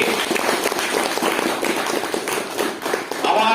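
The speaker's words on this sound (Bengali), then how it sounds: "জোরে হাততালি।" A crowd gives loud, sustained clapping at an honouring for a unit member, dense and steady throughout with no distinct pauses.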